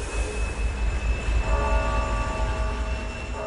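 A train runs through Arctic Siberia toward the northernmost rail-reachable point, giving a steady low rumble with faint metallic whining tones layered on top and no voices.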